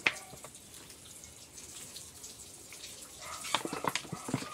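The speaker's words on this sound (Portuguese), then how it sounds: "Também tá molhando a folha toda, ó. As folhas, ó. Ó. Água escorrendo, ó." Water from a watering can or hose runs over and drips off orchid leaves during watering, a soft continuous trickle with scattered splashes growing louder and busier toward the end.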